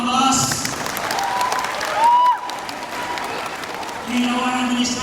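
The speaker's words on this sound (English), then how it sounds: "let's give them a big round of applause" Audience applause fills a graduation ceremony hall, a steady wash of clapping from a large crowd with a few cheers mixed in, lasting throughout and swelling toward the end.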